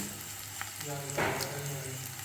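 Onions sizzle steadily in a hot pan, a soft continuous frying crackle at low level with a brief stirring scrape partway through.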